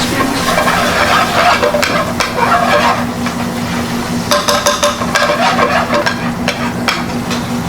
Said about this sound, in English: The garlic cooks very quick and it will go burn very quickly.